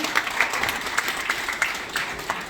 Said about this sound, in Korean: 큰 박수를 부탁을 드리겠습니다